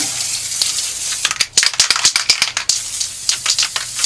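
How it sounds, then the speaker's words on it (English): Spray can applying a final coat of primer to a rusty wheel: a loud steady hiss, then a series of short rapid bursts and rattles, close to the nozzle. "this is my final coat of primer"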